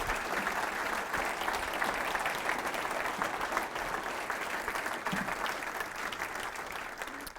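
An audience claps steadily through the whole stretch, filling a hall for a guest speaker's entrance with dense, even applause and a few faint voices underneath.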